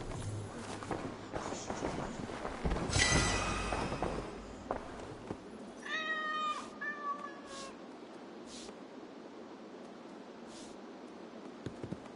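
A cat in the video game Assassin's Creed Valhalla lets out a clear, drawn-out meow after a stretch of rustling and footsteps, followed by a few short, fainter cat calls against a quiet background.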